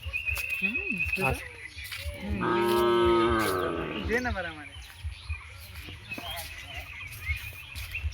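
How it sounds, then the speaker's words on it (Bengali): A cow gives a long, loud moo lasting a couple of seconds, followed by shorter lowing, with people talking before and after in a quiet rural setting. "ওই যে গরুটা দেখতে পাচ্ছ"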